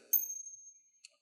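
A tiny, very high-pitched C8 handbell rings once with a thin sustained tone, followed by a brief second tap, faint and close.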